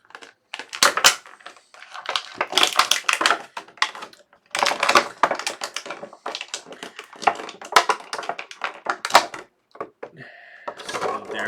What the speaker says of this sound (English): So let's get her out of the packaging.